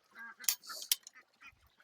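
A duck being pulled from water gives a few short, close quacks and honks, faint overall, with brief splashy noise in between.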